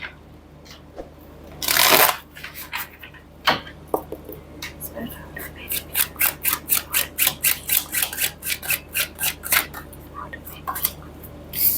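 A deck of tarot cards is shuffled close up, starting with a loud riffle, then a long run of rapid, evenly spaced flicks as the cards are cut and slapped together.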